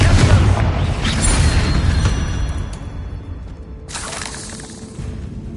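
A Confringo spell explosion in Hogwarts Legacy: a loud booming blast with crackling debris that decays over several seconds, then a second burst near the end.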